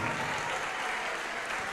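Church congregation applauding during a worship service, a steady, dense wash of clapping from many hands filling the room without a break.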